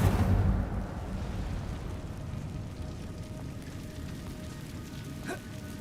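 In Hogwarts Legacy, the Incendio fire spell bursts out with a loud low whoosh, then trails into a rumbling, crackling roar that fades over several seconds.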